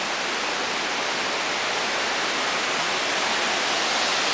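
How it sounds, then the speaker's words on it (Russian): A steady, dense rush of falling water, constant and loud without pause, filling the whole clip. "Водопад."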